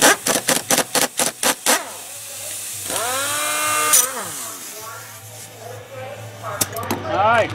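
Impact wrench tightening the center bolt of a steering wheel puller on a 2003-2008 Dodge Ram, heard as a loud rapid burst of about eight hammering blows, then whirring tool sounds and a final burst, with no talk.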